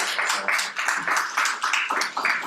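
An audience at a community forum applauds, with a steady wash of many hands clapping in uneven surges, close and fairly loud, without speech.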